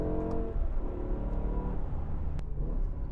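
A BMW M5 E60 with its V10 engine running, a loud, steady, deep engine drone with layered harmonic rumble, heard close and continuous without talking.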